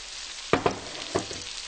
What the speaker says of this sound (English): Now I'm going to add in my eggplant.